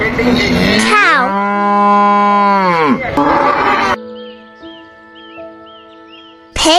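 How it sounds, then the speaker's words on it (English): A cow gives a long, loud, close moo with a falling pitch, followed by a second shorter low call, with faint birdsong chirping in the background. "Cow."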